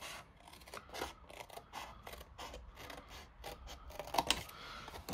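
Scissors snip through card for a large Christmas cracker in a rapid series of close, crisp cuts with a gritty, scraping texture, a few louder snips near the end.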